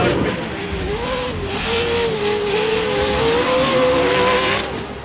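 Pro 4 off-road race trucks roar into turn one in a loud, sustained engine drone with a rising and falling rev pitch, close and continuous.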